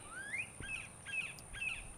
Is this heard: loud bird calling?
yes